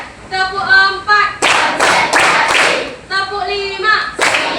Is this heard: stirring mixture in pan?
no